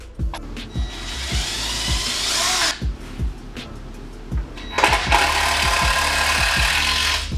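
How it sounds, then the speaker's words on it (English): A power drill whirs in two long runs, driving a screw into a wooden stud while framing a wall, with short clicks and taps between the bursts. "I'm going to start a screw"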